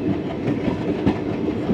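A train rolls along the Barmer to Munabao railway line in the Rajasthan desert near the India–Pakistan border, a steady continuous rumble with clickety-clack of wagons over rail joints, loud and close throughout.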